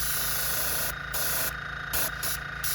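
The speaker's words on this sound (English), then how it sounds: "it was time for a new compressor" A new air compressor with a small tank runs close by with a steady, dense motor drone and a broad hiss, the sound cutting in and out in short sections.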